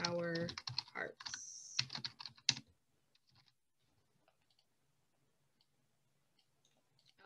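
Typing on a computer keyboard while designing a memorial plaque, with soft scattered key clicks that follow a short stretch of talk and then go on faintly, with little else, for several seconds.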